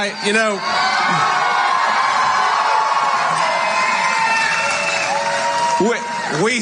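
A fired-up crowd at a Waukesha, Wisconsin political rally cheers, whoops and yells in a loud, continuous roar, with a voice briefly audible at the start and end.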